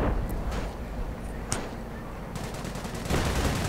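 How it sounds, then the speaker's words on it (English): Artillery and gunfire rumble through a real-time strategy game battle, with dense, continuous distant shots and booms. A few sharper cracks stand out over the steady din, with no talking. "That's definitely going to be a lot of artillery."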